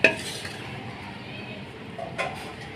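Keema scooped out of a pot, a metal utensil clinking sharply against the pot at the start and again later over a soft background hiss.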